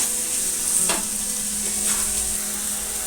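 Two tomatoes and dried curry leaves sauté in a clay pot, giving a steady close sizzle with a couple of scraping stirs, no voices.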